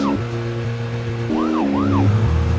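A police car in the video game Deadly Premonition sounds its wailing siren while driving, loud and close, sweeping up and down over a steady in-game engine drone with shifting tones.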